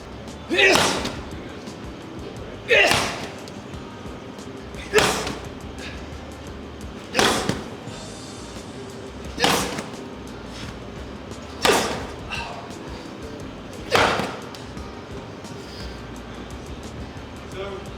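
A weighted ball is thrown against a wall during explosive training drills, landing in eight loud, evenly spaced thuds roughly two seconds apart over a steady room background.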